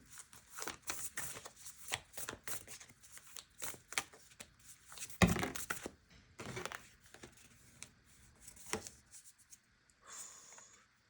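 Tarot cards shuffled and drawn by hand at close range, quiet riffling and sliding bursts in irregular rhythm with a few sharper snaps, fading to faint rustling at the end; no talking.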